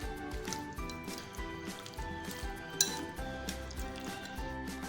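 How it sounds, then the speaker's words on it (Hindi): Chicken pieces being mixed with yogurt, chat masala and spice paste in a bowl, with steady clinking and scraping of a utensil against the dish and soft wet squishing throughout. "आप इन तमाम चीज़ों को हम अच्छे से मिक्स करेंगे।"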